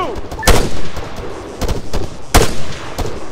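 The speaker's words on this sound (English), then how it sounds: "Lacey, fire at that soldier." Rifle gunfire in the Arma 3 video game: a few loud, sharp shots spaced irregularly, with echoing tails over faint background noise.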